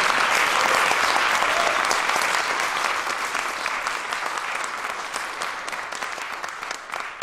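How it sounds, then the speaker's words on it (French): Dense, sustained audience applause for finalists at a French-language excellence awards event, starting full and gradually tapering off over several seconds. "une bonne main d'applaudissements vraiment à tous les finalistes"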